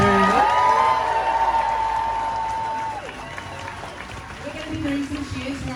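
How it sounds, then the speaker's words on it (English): A crowd at a trans youth rally in Sydney cheers and whoops, with voices rising together, easing off midway, then lifting again into renewed shouting. "We're going to get another huge cheer for Jack and Terry"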